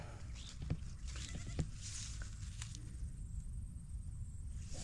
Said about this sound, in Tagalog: May narinig ako umiiyak, kambing.